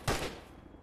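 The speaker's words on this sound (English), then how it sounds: "Shooting out window." A single sharp burst of gunfire fired out of a window in a tactical shooter set in the Falklands War, loud and close, then a short fading tail.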